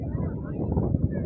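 On the roof of a boat crossing the sea from Kemari to Manora Beach in Karachi, wind buffets the microphone in a dense, low rumble, and a voice may be faintly present beneath it.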